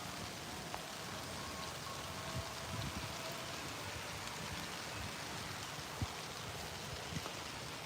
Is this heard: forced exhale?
no